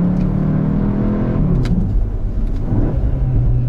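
A Cupra Formentor 310 hp engine rumbles and briefly revs as the dual-clutch gearbox downshifts, a mid-pitched growl rising and falling, heard from inside or close to the vehicle.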